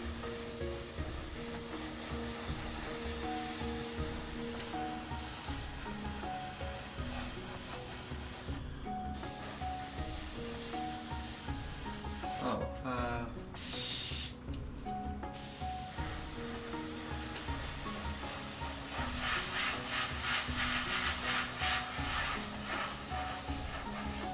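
Airbrush spraying light coats of paint onto a Fujimi 1/48 Mitsubishi A6M2 model plane, a steady close hiss running almost continuously with two or three brief pauses midway.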